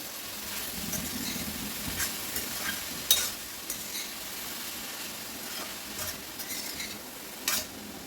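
A spoon stirs cabbage with green chilli and coconut in a pan, giving a steady soft sizzle with scattered light scrapes and taps against the metal, close by, and no talking.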